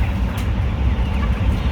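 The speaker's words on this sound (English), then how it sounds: "approximately 15 chickens in one cell" A dense, steady din of many chickens clucking together in battery cages, about 15 birds per cage, over a low rumbling hum, continuous and fairly loud.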